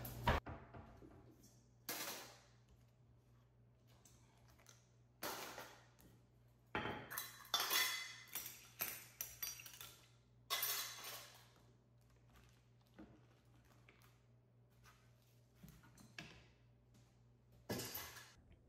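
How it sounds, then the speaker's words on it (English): Dishes, glasses and cutlery clink and clatter in scattered bursts as they are moved while loading a home dishwasher, close and fairly quiet over a steady low hum, with no talk. "I'm trying to think of how can I get these dishes in the dishwasher with as few steps as possible"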